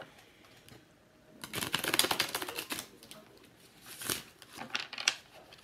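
A Rider Waite tarot deck is shuffled by hand in a quiet room. A dense, crisp flutter of riffling cards runs for about a second and a half, pauses, then comes back in a shorter burst near the end.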